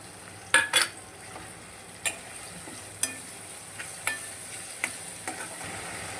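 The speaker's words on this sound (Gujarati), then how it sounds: "થોડી વાર તળવા દેવાનું." Pan-frying onion, tomato and chilli-ginger paste with garlic gives a soft steady sizzle, broken by several sharp clicks and taps of a stirring utensil against the pan.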